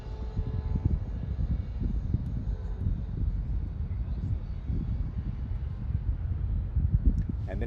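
An Amazon Prime Boeing 767 approaching to land on runway 36 right at Charlotte Douglas International Airport, heard as a steady low jet rumble throughout, moderately loud with slight swells near the end.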